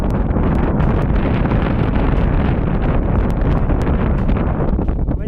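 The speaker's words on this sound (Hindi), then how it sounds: "हवा बहुत ही तेज़ है, बहुत तेज़ हवा है।" Strong wind roars and buffets the microphone continuously near Key Monastery in Spiti Valley, a loud, dense rumble with no letup throughout.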